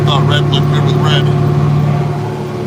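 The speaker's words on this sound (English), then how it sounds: "a 1981 International 4786, which I am driving right now" A 1981 International 4786 tractor engine drones steadily at a low, even pitch, loud and close, with a brief higher whine and rattle early on.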